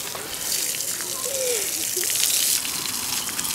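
Water gushes steadily at close range, like a hose or tap running, as children play with it while scrubbing a recovered crab pot; faint voices sit beneath the constant spray.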